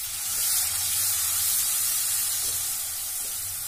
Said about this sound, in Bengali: মশলাটা যাতে পুড়ে না যায় সেই জন্য আমি অল্প করে একটু ওখানে জল দিয়ে নিচ্ছি।